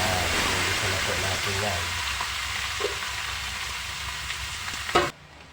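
Garlic and onion frying in hot oil for Bicol express, a continuous close sizzle with stirring scrapes, a clatter near the end before it cuts off; people talk over it.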